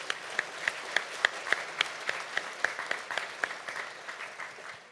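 An audience at a national residents' self-governance convention claps steadily for about five seconds, a dense roomful of hands with a few sharper individual claps rising above the wash before it gradually thins out.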